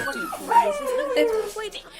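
A dog in a dating sim musical video game gives drawn-out, falling whimpers and whining howls, close and fairly loud, with no clear barks and a dense voice-like layer underneath.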